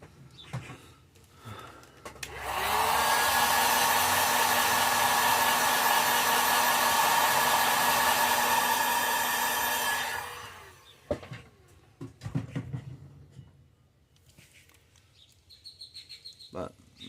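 Heat tool or hair dryer used to heat-set paint on a fishing lure, a loud steady blowing roar that starts abruptly, runs for about eight seconds, then cuts off, followed by scattered handling clicks and faint voices.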